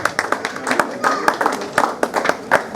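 An audience claps to welcome the chief guest at a Gujarati art-program ceremony, scattered close claps in an uneven patter while a voice speaks over them.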